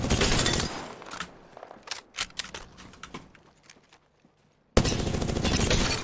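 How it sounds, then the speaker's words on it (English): Loud bursts of automatic gunfire in Apex Legends, firing in dense volleys at the start, sporadic single shots through the middle, a quiet gap, then a sudden heavy stream of fire at the end. "Getting shot at."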